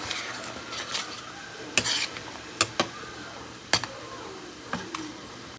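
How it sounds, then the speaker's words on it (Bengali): Potatoes and kohlrabi fry in a pan with a soft sizzle under repeated sharp scrapes and clinks of a spatula stirring against the metal, close and without talk. "আমি রান্না করছি ওলকপি দিয়ে আলু ভাজা"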